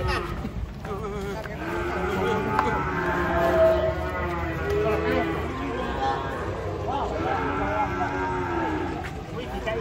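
Cattle unloaded from a truck at a market moo repeatedly, several long low calls overlapping in a noisy crowd, with people talking and shouting throughout.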